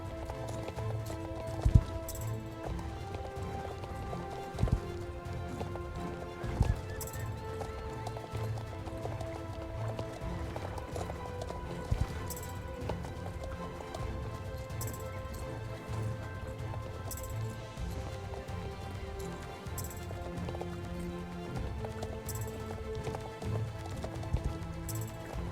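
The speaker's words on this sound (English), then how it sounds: "riding in these daily experience races to level up your horse" Horse hooves gallop in a race in the video game Star Stable Online, a steady, rhythmic clip-clop with occasional sharper thuds and faint tonal game sounds underneath, moderately quiet and continuous throughout.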